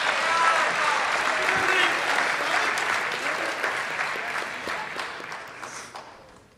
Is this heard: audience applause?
yes